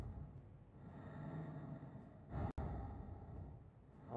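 Eerie breathing in the horror video game Manor: The Basement II: a low, hollow rush of breath that drones on and off, faint and sustained, with a brief sharper exhale near the middle.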